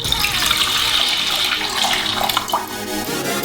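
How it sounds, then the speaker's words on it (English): Squeezed juice pours steadily into a saucepan in a continuous splashing stream, close and fairly loud, with a few small clinks near the end. "Pour that into the saucepan."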